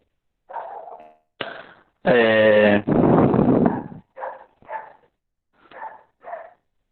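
A dog barks and whines nearby in short bursts, with one longer, loud stretch of howling, breaking into an otherwise quiet indoor room during an online chemistry lesson.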